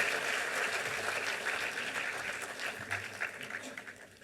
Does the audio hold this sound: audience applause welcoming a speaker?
yes